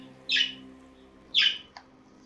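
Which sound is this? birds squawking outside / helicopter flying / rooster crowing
birds squawking outside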